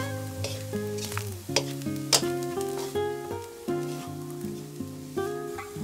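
Seasoned fried rice with Chinese sausage sizzles while being stirred in a pan, the soft frying hiss partly masked by prominent background music.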